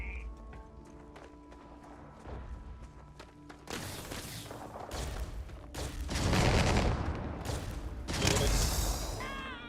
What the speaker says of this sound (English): this gun is from You're done for. the Mech Weapons Prepare for War mod.